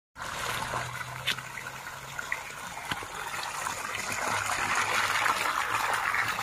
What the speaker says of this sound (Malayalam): വെള്ളം തിരിക്കുന്ന പോലെയുള്ള വെള്ളം പോകുന്ന പോലെയുള്ള സെറ്റപ്പാണ്